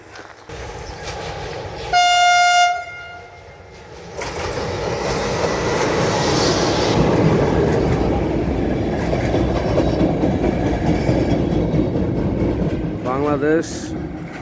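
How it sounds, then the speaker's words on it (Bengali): A train on a Bangladesh Railway line near Ayodhi station sounds a loud horn blast, then rolls past close by with a steady rumble and wheel clatter. A second short horn comes near the end, with people talking. "এই যে রেল লাইন, এই যে একটা ট্রেন আইতেছে মনে হয় এখন"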